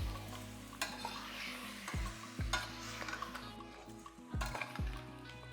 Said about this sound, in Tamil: இந்த மட்டனுக்கு தேவையான அளவுக்கு உப்பு மட்டும் சேர்த்துருவோம் சேர்த்துட்டு நல்லா ஒரு வதக்கு வதக்கிடலாம்